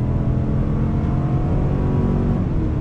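A 2021 Chevrolet Tahoe High Country with a 6.2-liter engine accelerates onto a highway, giving a loud, steady, continuous engine drone mixed with road roar from inside the cabin, with no talk.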